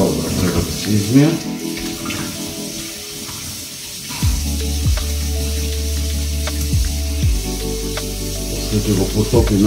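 Cold tap water runs and splashes loudly into a sink while a whole rabbit is washed for stuffing, steady gushing with shifting tones as the flow hits the meat, and a voice speaks briefly over it.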